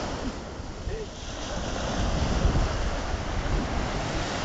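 Ocean waves wash onto a beach near a resort in a continuous broadband roar of surf, loud and close, with wind buffeting the microphone throughout.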